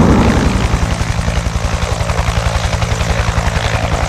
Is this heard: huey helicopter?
yes